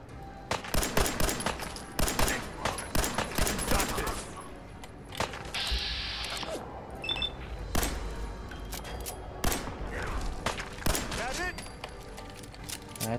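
Gunfire in the Fallout 4 video game, with rapid automatic bursts and repeated shots in dense volleys through the first half, then scattered loud shots, with voices talking over the fighting.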